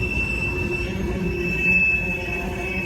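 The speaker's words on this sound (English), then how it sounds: "Train got very noisy all of a sudden." A Union Pacific freight train climbing the Palmdale Cutoff rolls past loudly and close, with a constant rumble and a sustained high wheel squeal running through the whole stretch.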